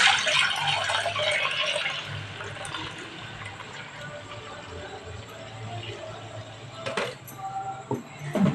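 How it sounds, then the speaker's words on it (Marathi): Water soaked over wheat flour is drained off in a steady, splashing pour that runs close and continuous, with a few sharper clinks and splashes near the end. "आपण जे गव्हाच्या पिठावर पाणी घालून ठेवलं आहे ते आता आपण हे पाणी सगळं काढून टाकणार आहोत"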